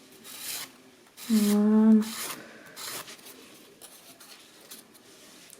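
A gel nail construction is filed in short, soft rasping strokes, close and quiet, with a brief spoken word partway through.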